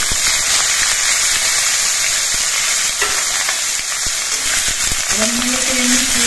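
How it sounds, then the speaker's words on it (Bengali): Water lily stems frying in a pan with mustard seeds and slit green chilies, a steady broadband sizzle and crackle with brief stirring knocks, plus a short spoken voice near the end. "সর্ষে আর কাঁচা লঙ্কাটা ভাজা হয়ে যাওয়ার পর এর মধ্যে আমি শাপলাগুলো দিয়ে দিই"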